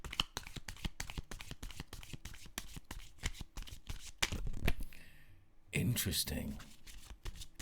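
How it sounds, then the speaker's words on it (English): Prism Oracle cards shuffled in rapid, repeated riffling bursts by hand, then drawn, with a soft crackle as several cards come out together; a voice speaks briefly near the end. "I'm going to pull you some Prism Oracle cards."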